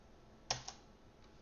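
A couple of quick keyboard key presses click sharply in a quiet room, the first louder than the second, with faint taps after.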